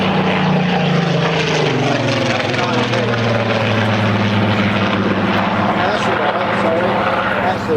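A loud propeller-driven aircraft drones past close by, its engine roar steady and strong with a slight pitch shift as it goes.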